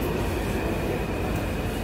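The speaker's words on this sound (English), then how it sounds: "Alright, 7 train." A New York subway train rolls past with a dense, steady roar and a faint high whine, close and loud throughout the short stretch, with no voices.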